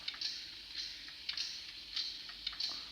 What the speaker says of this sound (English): F7 is the air pump.